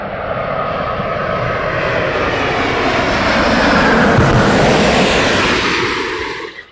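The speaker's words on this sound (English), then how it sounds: "Qatar, I do believe, Qatar A350 coming in" Qatar Airways Airbus A350 jet on approach at London Heathrow Airport, a loud broad engine roar that swells as the aircraft passes overhead and then fades away, with no talking.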